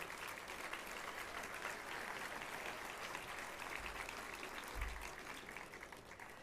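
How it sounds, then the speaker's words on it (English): A hall-of-fame banquet audience applauds for a young granddaughter's birthday, a dense, even wash of many hands clapping that stays steady for several seconds, soft and somewhat distant. "Could we have a nice recognition, applause for a young lady's birthday?"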